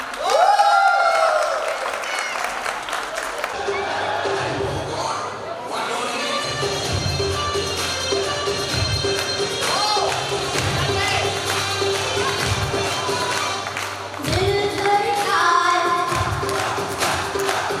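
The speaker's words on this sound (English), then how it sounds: "Round of applause for our youngest singer tonight" Guests at a Jain community Diwali dinner in Tampa applaud and cheer for the youngest singer of the night, with moderate clapping mixed with crowd noise, children's voices, shouts and a low music hum.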